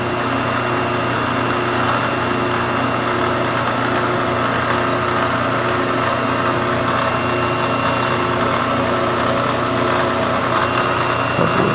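A drill press runs slowly through a fairly large hole in metal during M274 Mule steering support repair, giving a loud, steady mechanical hum and drone with no break for nearly twelve seconds.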